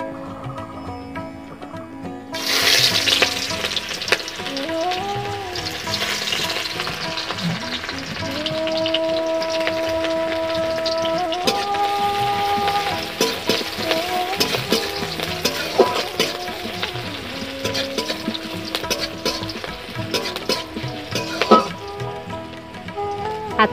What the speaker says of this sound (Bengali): এখন আমি পেঁয়াজ দিয়ে দেব।